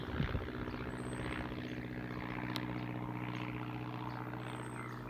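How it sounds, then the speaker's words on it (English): A small propeller plane drones steadily in the distance, a low continuous hum with a faint buzzing overtone. "That is a small aeroplane flying overhead."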